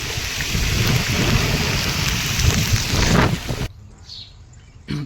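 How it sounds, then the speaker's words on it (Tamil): Heavy rain and strong gusting wind roar over a banana plantation during a cyclonic storm near Bhavani Sagar Dam, Erode, a loud dense wash that cuts abruptly to near quiet, with a brief burst returning at the end. "செம மழை செம காற்றுங்க ஒன்றுமே பண்ண முடியல"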